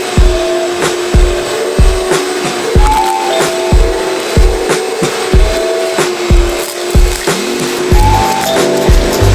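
A shop vacuum drones steadily while its nozzle scrapes and knocks in a repeated rhythm, sucking wet coal out of a truck bed, close and loud throughout.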